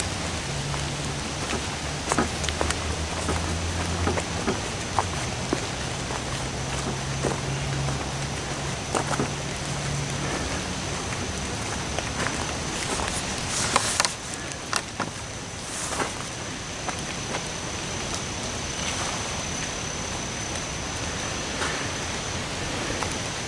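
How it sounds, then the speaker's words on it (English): Rain falling outdoors during a walk, a steady broad hiss of rain on surfaces, close and continuous throughout, with scattered drips and soft knocks and footstep-like bumps mixed in, no talking. "Hear the rain."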